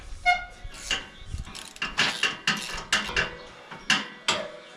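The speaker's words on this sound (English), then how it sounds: "this is a 13/16 spark plug socket with an extension. Get that old one out of there." A 13/16 spark plug socket on an extension loosens an old spark plug on a Cub Cadet Ultima ZT3 mower. A rapid series of sharp, close metallic ratchet clicks comes in uneven bursts, with no talk.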